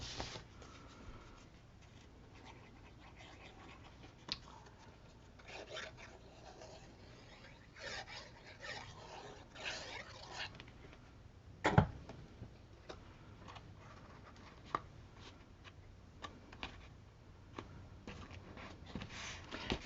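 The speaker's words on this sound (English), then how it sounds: "give it a good burnish with your bone folder" A bone folder burnishing a paper craft box, soft, close rubbing and scraping with light ticks and one sharp knock along the way.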